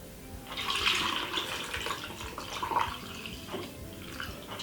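Water poured into a blender over carrot, apple, ginger, lemon and honey for juice, a short splashing pour that rises quickly and trickles off, moderately faint and alone.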